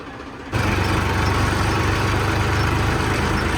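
A heavy tractor engine chugs steadily at idle near a grain market, starting abruptly and then holding a loud, even rumble with no talk.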